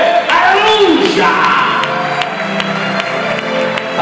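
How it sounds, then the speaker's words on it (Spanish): A church congregation at a Spanish-language sermon during an outdoor campaign applauds and cheers, a loud crowd roar with whoops and a shouted voice rising over the clapping. "Dale un fuerte aplauso a esa palabra de Dios"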